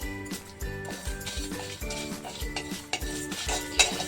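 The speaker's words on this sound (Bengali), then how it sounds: "ভাজা মশলার জন্য লঙ্কা, ধনে, মৌরি আর জিরে একসঙ্গে ভেজে নেব।" Chilli, coriander, fennel and cumin dry-roasted in a pan, stirred with a metal utensil in a steady rhythm of scraping clinks and taps over a faint sizzle, fairly quiet and close.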